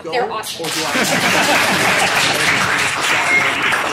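Audience at a songwriting panel at Mohawk College claps for the panelists, a dense burst of applause filling the room under brief talk.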